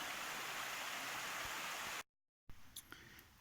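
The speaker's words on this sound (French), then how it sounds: "Voilà la belle rivière." Steady rushing water of a flowing river fills the first two seconds, then cuts out briefly before a quieter, softer stretch with faint trickles.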